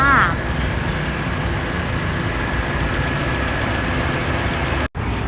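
A 2011 Honda CR-V's 2.4-litre i-VTEC engine drones steadily at close range, even and unbroken, before cutting off abruptly near the end.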